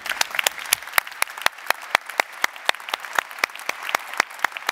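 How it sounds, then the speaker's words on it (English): Audience applause at the 2019 High Level Forum of the German Alliance for Trade Facilitation: a room of people clapping, with many sharp, separate claps in a lively rhythm that keeps steady and fairly near for the whole stretch, with no voices over it. "give yourselves a round of applause"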